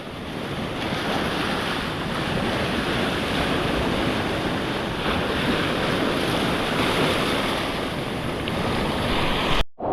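Continuous roar of large ocean surf waves crashing on a fishing outing, with heavy wind buffeting the microphone, loud and steady throughout.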